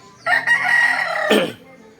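A three-year-old rooster crows once, close and loud, a drawn-out call with a sharp rise near its end, alone in a quiet setting.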